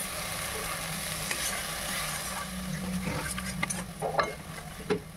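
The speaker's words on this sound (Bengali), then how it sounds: "বেটে রাখা পোস্তটা এর মধ্যে দিয়ে দিলাম। এবার পোস্তটাকেও একটু কষিয়ে নেব।" Poppy seed paste frying in a pan for a Bengali drumstick and curd dish, a low, quiet sizzle with scraping stirring strokes that grow busier toward the end.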